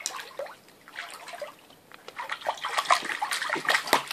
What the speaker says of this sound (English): You're playing in the water.